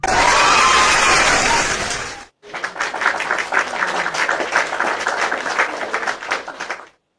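A large crowd cheers and applauds loudly at first, then after a brief break a dense wash of clapping and shouting continues at a steady, slightly lower level.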